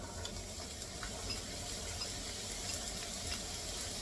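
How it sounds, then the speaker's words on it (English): Onions sizzle in a hot pan for a turkey breakfast hash, a steady crackling fry with faint pops and a little stirring, moderately quiet and close, without talking. "Hear that sizzle? That's what you want."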